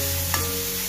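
Capsicum gravy sautéing in a pan at home, a brief steady sizzle with a soft stir sound, close and alone.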